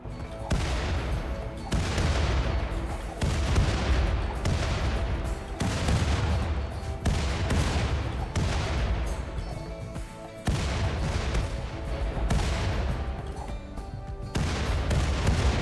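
Classic mortars firing in RimWorld, a series of heavy booming blasts roughly every two seconds, each with a long rumbling decay, loud and close with no talk.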